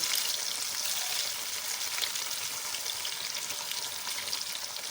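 Marinated gondhoraj paneer, including homemade paneer, sizzles and fries in a pan, a continuous bright crackling hiss that holds steady throughout with no voices over it.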